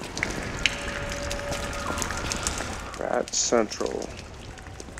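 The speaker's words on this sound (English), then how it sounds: "Rainy night." Steady rain hisses through a night scene in the game Lies of P, a soft, continuous wash of drops under a voice, with footsteps and brief louder sounds partway through.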